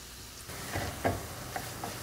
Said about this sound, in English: we're going to quick fry these in some hot oil